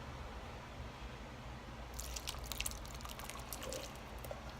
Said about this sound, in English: I'm going to now pour my Cuban style black beans, everything,